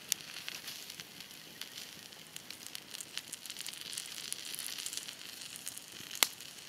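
Steak searing on campfire coals during a day hike, a faint steady crackle and sizzle with a few sharp pops, and a brief clatter near the end as the meat is turned.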